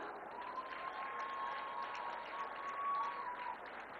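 A crowd of children claps steadily through a public speech, a dense, even roar of applause that holds at constant loudness for several seconds.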